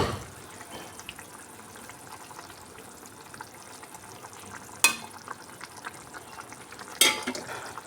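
Fish curry gravy for rupchanda macher tel jhal simmers quietly in a pan as a soft, steady bubbling, broken by two sharp utensil clinks.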